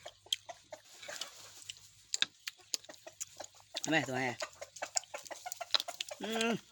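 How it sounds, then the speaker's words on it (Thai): Chickens cluck in short scattered bursts close by outdoors, with a louder squawking call near the middle and another at the end, while a voice talks intermittently over them. "ไก่"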